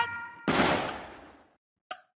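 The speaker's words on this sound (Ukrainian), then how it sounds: "Якщо ви чуєте такі вибухи, то значить, що хтось помер." A single sharp gunshot-like bang with a decaying echo, followed by a short metallic ping, heard after a brief musical tone, in a Squid Game-style Roblox game.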